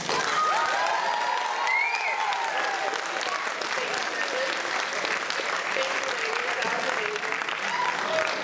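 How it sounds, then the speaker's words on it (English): Audience applause and cheering after a dance performance, a dense sustained wash of clapping from a large crowd with scattered whoops and voices rising over it, loud and continuous throughout. "Another round of applause for"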